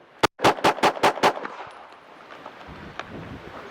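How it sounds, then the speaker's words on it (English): A pistol fires at a silhouette target on a shooting range: one shot, then a quick string of five loud, evenly spaced shots, each followed by a fading ring and range ambience. "watch the front of the gun, and then I'm just going to shoot"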